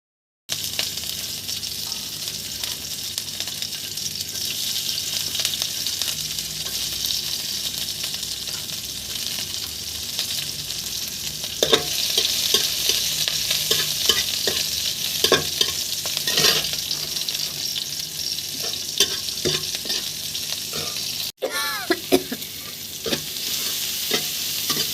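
Chopped green chilli and onion frying in hot oil in a wok, a steady broadband sizzle with scraping stirs and occasional spatula clinks, close and continuous with no talking.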